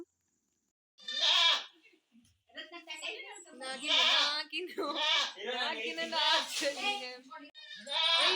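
Goats bleat repeatedly at close range, loud wavering cries following one another after a brief silent start.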